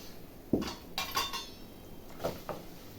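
Spoon clinks and scrapes against a pan while a milk-cream barfi mixture with a spoonful of gram flour is stirred, a few distinct metallic knocks spaced over a quiet background.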